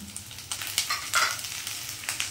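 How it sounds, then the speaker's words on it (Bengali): Chopped onion and garlic fry in a pan for a coconut curry while being stirred, giving a steady close sizzle broken by scraping stirs. "একই সঙ্গে আমার পেঁয়াজগুলো ভাজা হতে থাকবে"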